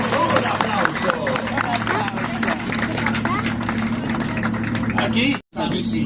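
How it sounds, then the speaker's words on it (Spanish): Audience applause aboard a pirate boat outing, steady dense clapping mixed with crowd babble and talk throughout, with a brief dropout near the end. "Un aplauso."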